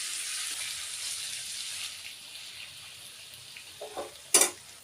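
Brinjal (eggplant) frying in a hot pan, a soft, steady sizzle that fades a little, then a couple of brief utensil scrapes and a sharp clatter near the end, with no speech.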